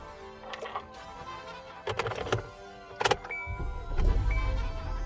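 A 2013-19 Kia Soul engine cranking and starting after starter replacement, a brief whirring crank, a few clunks, then the engine catching and settling into a low idle, close by.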